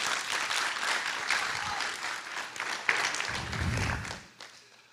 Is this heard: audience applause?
yes